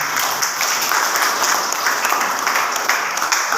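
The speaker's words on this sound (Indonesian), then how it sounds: "Oke kasih tepuk tangan untuk kelas" Students in a classroom give a round of applause, a steady wash of clapping hands that holds at an even, moderately loud level from start to finish.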